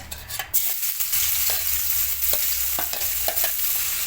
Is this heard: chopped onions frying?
yes